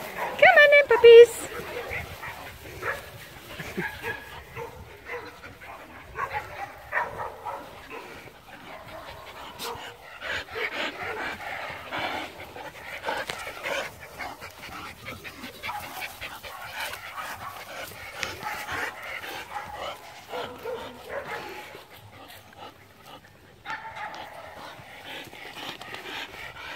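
Dogs pant and snuffle close by, with an occasional whimper and short bark, while a person talks to them softly throughout.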